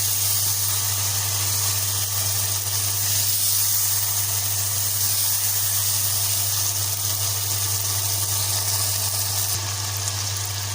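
Masala with curd sautéing in a pan, a steady loud sizzle and hiss that runs unbroken throughout with a constant low hum beneath and no voices.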